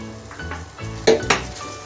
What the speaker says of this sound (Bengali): এখন আমি মাংসটা দিয়ে দিচ্ছি, আগে থেকে সারিয়ে রাখা মাংসটা দিয়ে দিচ্ছি।